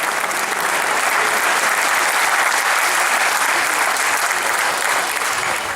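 An audience at an Islamic social and cultural foundation event applauds Justice Markandey Katju in a steady, dense, loud wash of clapping that holds without a break.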